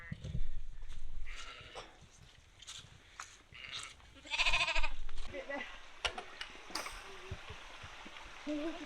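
Sheep and lambs bleat at intervals on an open hillside along the Cumbria Way, mixed with people talking and wind. One clearer bleat rises in the middle.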